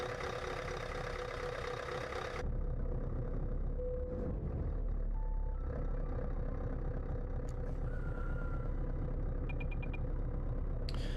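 A modded car engine in a video game idles with a rough, worn-sounding low rumble, steady and moderately loud, with faint small electronic blips layered over it.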